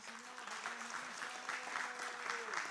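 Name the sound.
congregation applause in church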